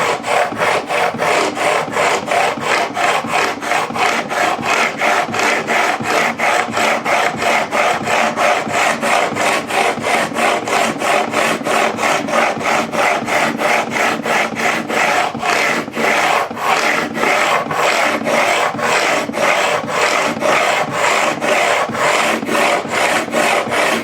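Guitar frets being filed on a Harley Benton Custom Line SC P90 single-cut electric, a continuous rhythmic rasping of rapid close strokes, loud and near, with no voices.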